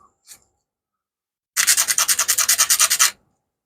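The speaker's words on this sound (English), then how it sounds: "Sand it smooth." A craft trim piece is sanded smooth by hand in a quick run of about fourteen rhythmic, scratchy rubbing strokes, close and fairly loud, after a moment of near silence.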